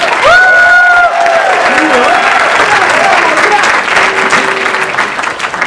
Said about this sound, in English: So give it a round of applause to Irvine.